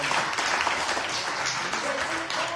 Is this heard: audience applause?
yes